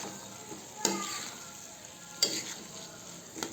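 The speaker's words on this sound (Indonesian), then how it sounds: "kita aduk rata." A spoon stirs a potato, carrot and egg filling with spring onion and celery in a pan, giving three sharp scraping knocks against the metal over a soft background hiss, spaced about a second apart.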